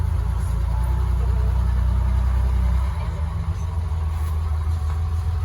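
A classic car with a duck-tail rear, rolling at walking pace at the Biarritz concours d'élégance, a close, low, steady engine rumble that eases slightly partway through, with no one talking.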